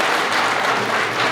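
An audience applauds at a public panel discussion on Indian cinema, a steady, dense wash of clapping filling the hall with no voices over it.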